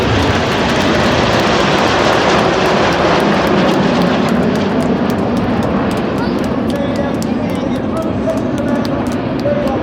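Red Arrows display jets roar past at an air show, a loud, continuous broadband jet rumble that holds steady throughout, with faint crowd or commentary sounds underneath.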